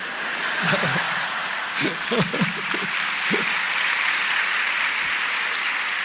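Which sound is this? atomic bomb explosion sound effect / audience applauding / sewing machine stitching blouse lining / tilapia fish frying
audience applauding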